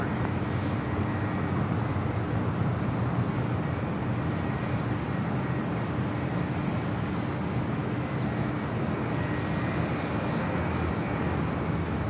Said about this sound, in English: Looks like we have the Delta 330 Neo pushing back, flight 934, destined for JFK.